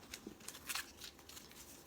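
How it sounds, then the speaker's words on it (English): Oracle cards being shuffled by hand: soft, quick papery riffles and flicks in a quiet room, faint and close, with no talk. "So I'm just having a little bit of trouble shuffling."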